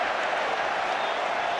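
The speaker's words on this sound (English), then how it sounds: "the crowd jeering Tom Vondel there" A large rugby crowd at the 2005/6 Premiership Final between Sale Sharks and Leicester Tigers jeers Tom Vondel, a steady dense roar of voices filling the stadium without letup.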